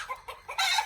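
A rooster and hen cluck in a village yard, a few short, close, fairly loud bursts in quick succession with no one talking.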